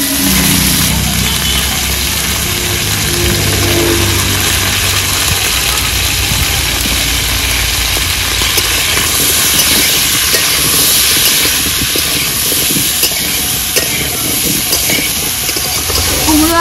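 Tender pumpkin pieces dropped into hot oil with frying potatoes, giving a continuous loud hissing sizzle that runs throughout with a crackling texture beneath.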